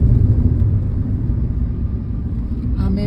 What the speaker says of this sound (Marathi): गाडी आमची फुडें वयता.